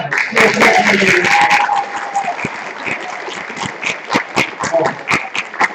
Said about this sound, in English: they want one more round of applause